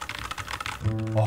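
Rapid clicky key presses on a small mechanical keyboard with MX Purple switches patter for most of the clip, then a voice cuts in near the end.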